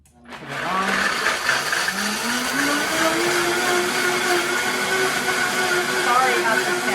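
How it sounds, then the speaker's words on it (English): A Vitamix blender running on low speed in a home kitchen, its motor spinning up quickly and then holding a loud, steady whirring drone with a slowly rising pitch. "Put the cover on, make sure the Vitamix is on low, and then turn it on."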